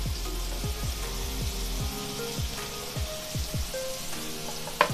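Chopped onion and green chilli fry in a hot pan with a constant soft sizzle, broken by a series of scraping strokes from a spatula as the mixture is stirred, all close and fairly quiet.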